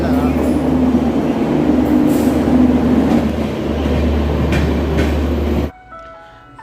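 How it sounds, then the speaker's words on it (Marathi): The Jan Shatabdi Express's low, steady engine hum and rumble fill Dadar station platform early morning, then the sound cuts off abruptly near the end. "दादरवरून गाडी वेळेवर सुटली"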